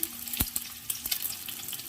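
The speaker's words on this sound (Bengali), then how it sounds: "ডিমটা ভাজা হয়ে গেছে" A duck egg fries in a pan as a home dish is cooked, giving a close, steady sizzle broken by a few sharp crackles and pops, with no talking.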